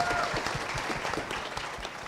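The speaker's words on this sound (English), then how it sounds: "Please, let's clap for our panelists today." A modest conference audience claps steadily for a couple of seconds for a panel, the applause fairly even and moderately quiet.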